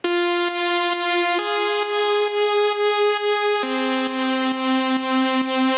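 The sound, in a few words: gated vocal chop samples played individually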